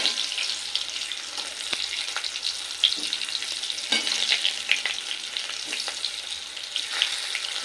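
Potatoes fry in oil with salt and turmeric for a katla fish head curry, a constant bright sizzle with occasional soft stirring taps, close and steady without talk.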